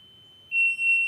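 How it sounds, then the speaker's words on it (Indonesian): The main buzzer of a ship's BNWAS bridge watch alarm, built on an Outseal Mega V1 controller, switches on after a brief quiet and holds a loud, piercing, steady electronic tone with one tiny dip. No one speaks. "Buzzer utama menyala"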